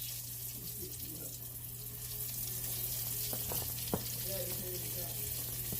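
Food dropped into hot grease in a big skillet over medium-high heat makes a soft, steady sizzle, with a few faint clinks and bubbling pops partway through.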